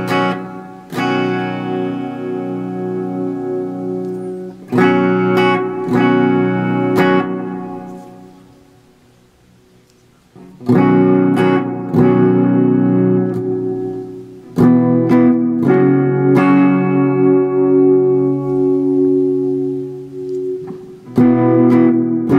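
Distorted electric guitar notes and chords through a Death By Audio Reverberation Machine clone pedal with gain, ringing out in heavy reverb, played in bursts with long washy tails and a brief near-silent gap midway.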